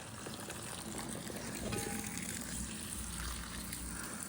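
Tap water runs steadily while cast iron cookware is rinsed, a soft continuous splashing stream at low volume with faint clinks partway through.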